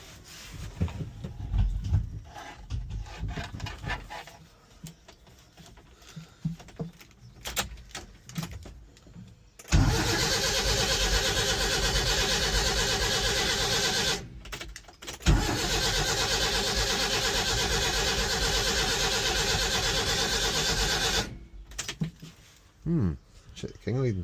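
A Ford Escort pickup's engine is cranked with the key, starting from intermittent clicks and bumps, then two long loud runs of churning cranking separated by a brief pause, with talk heard before and after.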